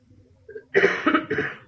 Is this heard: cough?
yes